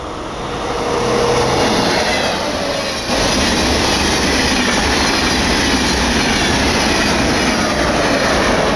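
A TGV high-speed train bound for Gare du Nord rolls past with a loud, steady broadband roar and rumble, rail noise holding strong throughout with a faint clickety-clack of wheels and no talk.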